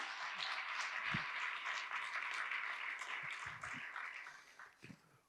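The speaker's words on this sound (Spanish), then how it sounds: "Denle un aplauso al Señor." A church congregation applauds in a steady wash of clapping heard from a distance, fairly faint, thinning out toward the end.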